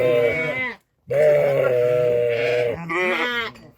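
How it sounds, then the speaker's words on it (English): A Cheviot lamb bleats loudly and close in two long wavering calls, separated by a short silence. "One of the old lambs that'll be for sale."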